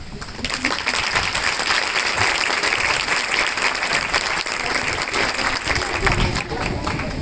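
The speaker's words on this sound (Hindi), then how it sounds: "अगर ताली नहीं बजाते तो मैं डांट मारता कि इतनी अच्छी बात पे भी ताली नहीं बजाई" Audience applause at an NSS camp talk, a dense, steady wash of many hands clapping throughout, loud and close, with faint voices mixed in.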